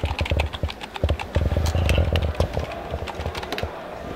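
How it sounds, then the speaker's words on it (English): Rapid clattering keystrokes on a computer keyboard, close and irregular, continuing steadily in quick bursts without any talk over them. "just keep typing"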